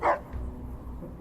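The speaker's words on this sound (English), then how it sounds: "What are you barking at, dude?" Dog in the video game Fallout New Vegas gives a single short bark at the start, followed by low background game ambience and a faint trailing yip.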